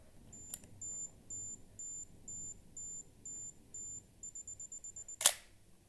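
Self-timer on a Chinon CE-5 35mm film camera: a click sets off a steady series of high electronic beeps that speed up toward the end before the loud clack of the shutter firing.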